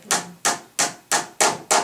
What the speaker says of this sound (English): And hammer it into place.